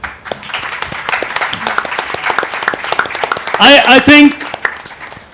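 An audience at a regional quiz finals bursts into brisk clapping beneath an announcer's ongoing talk, with a louder, denser swell of applause near the end.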